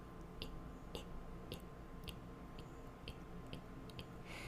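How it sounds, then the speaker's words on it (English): Glottal onset clicks made without voicing, the vocal folds snapping closed and open close to a microphone: a series of small, sharp, dry ticks spaced roughly half a second apart, quiet and alone over faint background hiss. "That's my vocal folds coming into closure and then opening."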